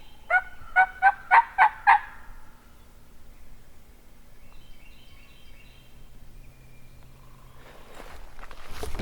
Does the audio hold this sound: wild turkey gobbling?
yes